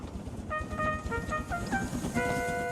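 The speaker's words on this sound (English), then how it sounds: "Then he heard a whistle." Several short steam train whistle toots with steady harmonic tones, repeated in bursts over a low rumbling background, moderately loud and fairly close.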